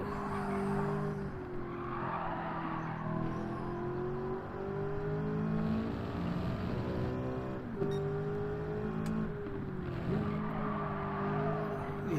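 A race car in the Gran Turismo 7 video game, its engine note steady and loud, climbing and dropping through gear changes with hints of tire squeal, continuous and with no voices.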